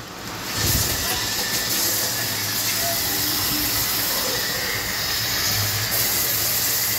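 Chopped tomato hits hot lauki dal (bottle gourd lentils) in the pan, setting off a loud, steady hiss of sizzling that swells quickly and holds evenly throughout.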